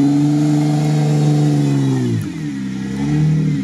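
A Suzuki Samurai off-road vehicle drives with a loud, sustained engine drone close by, the revs dipping then climbing again, with no voices over it.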